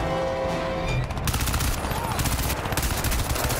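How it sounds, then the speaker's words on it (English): Rapid bursts of automatic gunfire in a shooter video game, loud and dense throughout with overlapping shots and explosive cracks from close by, no talk. "Somebody's shooting me from back here, too."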